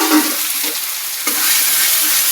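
Onions fried with chillies and nigella seeds get stirred in a wok, a close, steady sizzle with a few scraping strokes of the spatula, and a sharper stir just past the midpoint.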